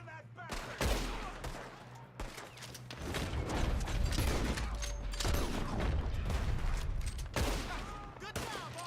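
Gunfire in the video game Red Dead Redemption 2: repeated rifle and pistol shots burst out in a busy fusillade, mixed with game noise and faint voices.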